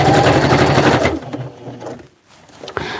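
A sewing machine stitches a Hmong baby carrier, a rapid steady whirring run for about a second that then slows into a few faint stitches and stops.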